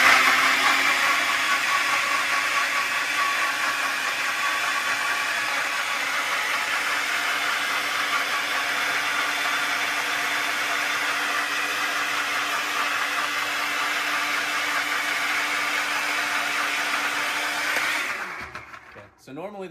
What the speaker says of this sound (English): we're going to put this in the blender